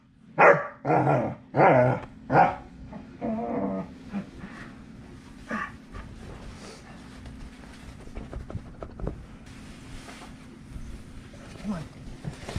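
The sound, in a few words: dog barking and growling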